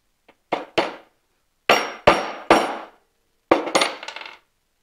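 A new bushing is hammered onto the cam arm of a Polaris snowmobile drive clutch, sitting on a flat surface. Sharp metallic strikes come close and loud, spaced in small groups of two or three with short rings between them.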